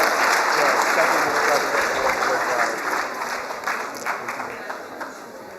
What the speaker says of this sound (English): Let's give them a bigger round of applause today